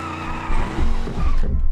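Car tires skid and squeal while drifting in the driving game BeamNG.Drive, with a loud engine droning underneath in a short continuous burst.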